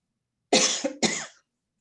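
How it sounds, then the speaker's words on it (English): Two harsh coughs in quick succession at a Board of Education meeting, close and loud, with a brief gap between them and silence before and after. "Excuse me, I have to cough."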